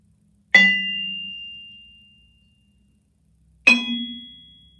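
A vibraphone bar is struck twice with a mallet while lightly touched near one end, each strike a bright metallic multiphonic chord with a sharp attack and a long ringing decay, alone in silence.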